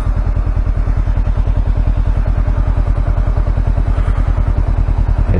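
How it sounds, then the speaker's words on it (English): Honda CB500X motorcycle with a sticking clutch, its engine chugging in a steady, loud, rapid pulsing rhythm close by while it struggles to downshift after stopping in a high gear; no talk. "If I come to a stop in a high gear, it doesn't want to shift down."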